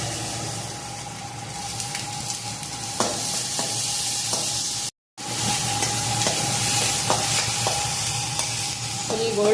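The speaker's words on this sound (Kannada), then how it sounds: "ಗೋಲ್ಡನ್ ಬ್ರೌನ್ ಬರೋ ತನಕ ಇದನ್ನು ಫ್ರೈ ಮಾಡ್ಕೊಳ್ಳೋಣ." Chopped onions sizzle steadily in a pan, frying toward golden brown as a momo filling, with occasional clinks and scrapes of stirring over a constant hiss; a very brief dropout breaks it midway.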